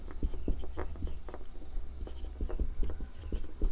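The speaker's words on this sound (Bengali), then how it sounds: "চলো লিখে নিচ্ছি" Chalk or marker scratches and taps across a classroom board in short repeated strokes during a chemistry lesson, fairly close, with a faint steady hum underneath.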